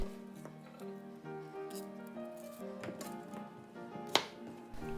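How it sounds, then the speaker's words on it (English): A knife slices Okinawan shallot on a cutting board, a series of soft irregular chops and taps at close range, with one sharper knock near the end, over quiet background music. "Cut the Okinawan shallot."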